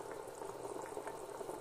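Tamarind rice mixture with salt and asafoetida boiling in a pot over high heat, a close, continuous bubbling burble at moderate loudness with no talk.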